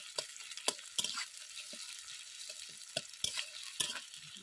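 Chopped onions frying in a pan are stirred until brown, a soft steady sizzle broken by a series of sharp spatula scrapes and taps against the pan.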